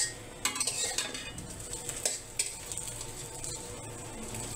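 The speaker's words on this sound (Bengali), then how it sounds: "এখন নাড়াচাড়া করে আর একটু কালার করে ভেজে নেব।" Broken egg pieces are stirred and fried with a spatula in a pan, with scraping strokes and sharp metal clinks over a low, steady sizzle.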